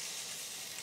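Burger meat sizzles meat side down on a hot hob, a steady, soft hiss of frying fat that continues without a break through the whole short moment.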